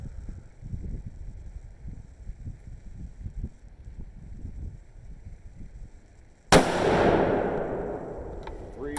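A single sharp shot from a Savage 110 Predator .243 Win rifle outdoors, preceded by seconds of wind rumble, then a loud crack with a long echoing decay across open ground.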